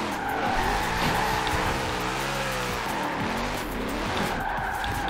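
A four-wheel-drive drift Mustang skids through a slide in Forza Horizon 4, with loud tire squeal over a revving engine whose pitch climbs and falls, sustained and close throughout with no talk.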